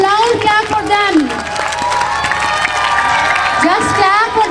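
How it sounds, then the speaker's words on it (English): A school audience at an annual speech competition claps and cheers for the participants, a loud, dense, unbroken wash of clapping mixed with shouting voices. "should be loud clap for them"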